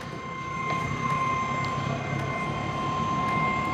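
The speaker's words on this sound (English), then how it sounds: "we hear the pump starting" Fuel pump of an Airtronic D5 diesel heater starting on a test bench, a steady close electric hum with a high whine and faint regular ticks.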